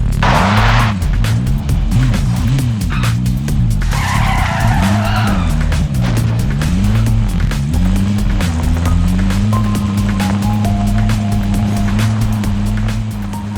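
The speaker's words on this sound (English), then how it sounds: "Okay, I am driving." Vehicle driven through Call of Duty Warzone solos, engine droning loud and steady throughout with rising and falling pitch, tires skidding and splashing noise bursts early on, and sharp gunfire-like clicks scattered across the stretch.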